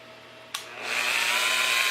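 An electric drill with a bent, off-center bit starts with a sharp click, then spins up into a steady whine. The sound is close and loud and comes alone, with no talk.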